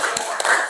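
Two quick, crisp hand claps from a spirited group clap in a dance lesson, close and fairly loud, with no voices in between.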